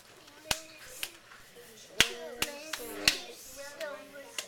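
A small reading group of children clapping out the syllables of a word, sharp separate claps in loose pairs, close and moderately loud, with children's voices murmuring between them.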